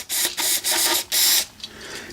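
Carburetor cleaner sprays onto a small engine in several loud hissing bursts, three long blasts and a shorter one, close and without talk.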